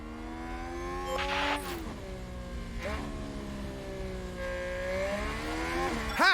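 Race car engines in the F1 Manager 2022 video game rev and shift as cars overtake, with rising and falling tones, swelling whooshes and a loud burst at the end.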